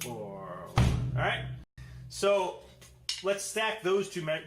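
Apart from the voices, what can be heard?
No distinct noise like a dog, phone or traffic.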